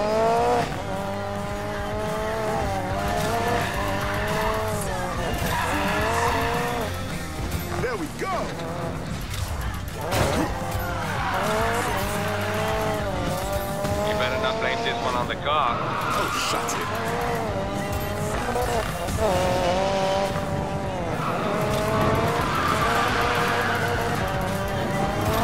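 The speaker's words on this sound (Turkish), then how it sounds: "Erken drift yapıyoruz bu sefer de." Drifting car in the Need for Speed Payback racing game, a continuous loud engine whine rising and falling in pitch with squealing tires throughout, while someone talks over it.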